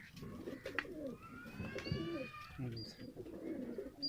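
A Teddy Ferozpuri pigeon on a rooftop coos in soft, rolling low calls, close by, alongside other faint chirps and someone talking quietly in the background.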